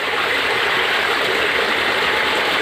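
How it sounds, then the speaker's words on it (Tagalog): Floodwater from Typhoon Carina surging after it toppled a river wall beside homes, making a loud, steady, unbroken roar of rushing water that fills the whole stretch with no voices. "Lakas na rin ang tagas ng tubig."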